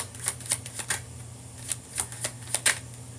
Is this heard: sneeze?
no